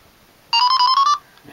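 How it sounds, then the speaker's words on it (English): Beeping from a Benesse educational cartridge for the WonderSwan handheld, a single bright electronic tone of about half a second, loud and clear against a quiet background. "It's got some nasty beeping."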